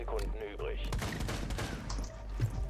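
Rapid bursts of automatic gunfire from a Rainbow Six Siege match, crackling fast and loud, overlapping with scattered shots and game noise throughout.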